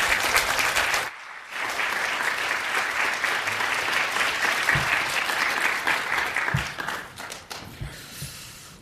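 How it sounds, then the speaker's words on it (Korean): Sustained applause from a standing church audience at a Bible Baptist graduate school gathering, welcoming a speaker; steady dense clapping with a brief lull near the start, then continuing loud and full before tapering slightly at the end. "여러분 기립해서 뜨거운 박수로 맞아주시기 바랍니다"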